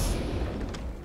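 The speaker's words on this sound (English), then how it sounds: "Oh, we got mortars incoming!" Incoming mortar fire in the video game Gears of War 4: a short, heavy, low booming rumble with a dull thud and a faint whistling edge, loud and close.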